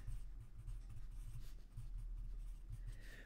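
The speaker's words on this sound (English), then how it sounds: "let's write down shopping list" A shopping list is written down by hand with steady scratchy strokes up close, running continuously over a low background hum with no talking.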